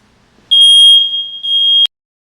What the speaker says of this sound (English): you hear your smoke alarm going off